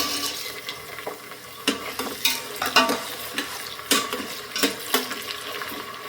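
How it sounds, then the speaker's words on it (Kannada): Fresh green peas and onions fry in a pan, a low steady sizzle punctuated by repeated clattering scrapes and knocks of a spatula being stirred, close by with no talking. "ಹಸಿ ಬಟಾಣಿ ತೊಗೊಂಡಿದ್ದೀನಿ, ಸೊ ಅದೊಂದು 2 ನಿಮಿಷ ಫ್ರೈ ಆಗಲಿ"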